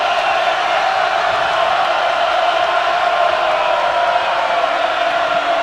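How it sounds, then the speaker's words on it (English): Steady roar of a basketball arena crowd cheering during a college game between New Mexico and Utah State, a dense, continuous wash of voices at constant loudness throughout. "here comes the crowd here"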